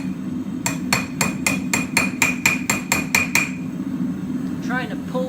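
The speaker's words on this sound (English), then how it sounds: "I'm just setting it on the back side of the anvil and hitting down here to try to curl it open" A hammer strikes hot steel on the back of an anvil eleven times in a quick, steady rhythm, each blow a sharp ringing clang, followed by a brief quieter clatter over a low background hum.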